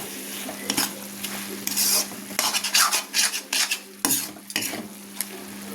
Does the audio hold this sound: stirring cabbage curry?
yes